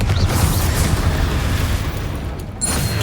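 Confringo spell blasts in Hogwarts Legacy, a dense, sustained rumbling roar of magical explosions with crackling bursts, loud and continuous without any voice.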